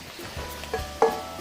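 Ground beef hitting a pan of peppers and onions for empanada filling gives a soft, low sizzle with a couple of stirring scrapes, brief and fairly quiet, no talk.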